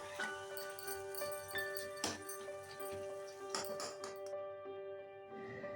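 A metal spatula scrapes and clinks against a pan while taro stems are stirred, giving a few sharp separate taps over a steady background tone, fairly quiet and close, with no talking.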